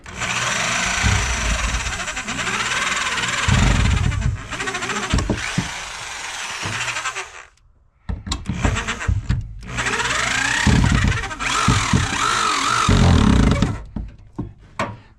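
A 1/2-inch Milwaukee hammer drill runs in loud bursts, whirring and rattling, stopping and restarting several times nearby.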